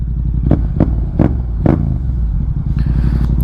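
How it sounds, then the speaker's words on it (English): A 2024 Yamaha MT-07 motorcycle pulling away, its engine note rising and falling through a series of quick, loud revving pulses, close by with steady wind rush underneath. "this bike feels like it picks up better off the line"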